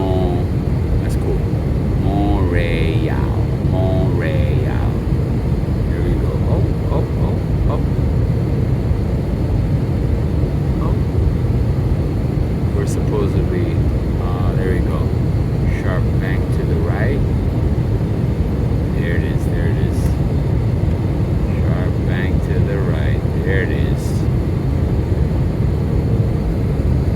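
Airliner cabin noise on a flight into Montreal during a sharp banking turn: a loud, constant low engine drone fills the cabin, with muffled voices murmuring underneath.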